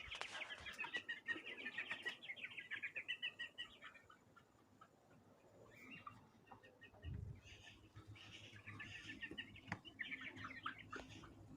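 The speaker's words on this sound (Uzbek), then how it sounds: "Mana jo'jalarimiz." Newly brought-out chicks of a new breed chirping outdoors in the sun, with dense high cheeping in bursts and a few lower clucks mixed in, moderately close.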